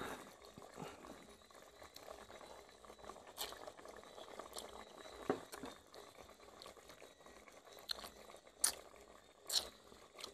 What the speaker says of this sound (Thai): สุดยอดครับน้ำซุปกำลังเข้มข้นเลยเดือดมากเลยนะครับ